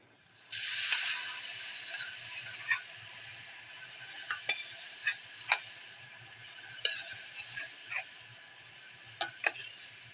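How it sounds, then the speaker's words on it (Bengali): Boiled mutton mince stir-frying in a pan: a soft steady sizzle with a series of sharp spatula scrapes and taps at irregular intervals, fairly close and moderate in level, no voices. "এবার এতে আমি একশো গ্রাম মটন কিমা সেদ্ধ করে রেখে দিয়েছিলাম সেটা দিয়ে ভালো করে কষে নেবো"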